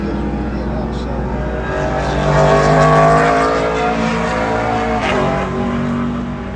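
NASCAR race cars roar around the Mosport track in a loud, sustained engine drone that swells midway and then eases as they pass, while a commentator talks over the noise.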